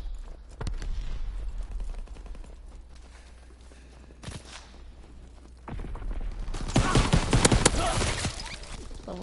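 M1 rifle shots in a World War II video game, fired as a few scattered single cracks and then a denser volley near the end, over a low steady game background.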